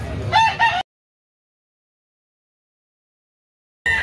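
A gamefowl rooster of the Biboy line crows once, loud and close, in a short burst at the start, followed by a long silence before another loud crow begins at the very end.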